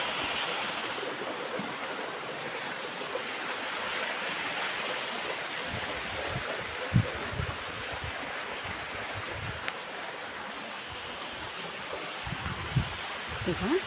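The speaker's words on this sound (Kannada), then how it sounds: "ದೇವಸ್ಥಾನದ ಸುತ್ತ ನೀರು ಬರುತ್ತೆ" Water flows in a steady, rushing wash around a temple, close and continuous, with a few low thumps under it.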